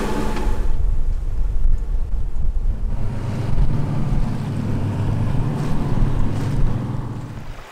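Sailboat under sail on the sea around the Turks and Caicos islands, with continuous rushing water, wave wash and heavy wind buffeting the microphone, loud and steady throughout.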